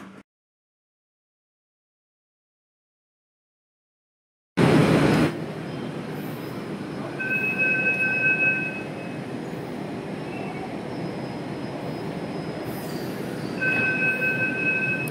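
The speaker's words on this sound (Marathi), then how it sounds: "तर ही मेट्रो आलेली आहे." After a few seconds of silence, a Pune Metro train rolls into the station with a sudden loud onset and a steady rumbling roar. Thin, high wheel squeals come and go as it slows.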